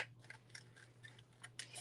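Scissors snip through paper in a series of faint, quick cuts with an irregular rhythm, close by over a low steady hum.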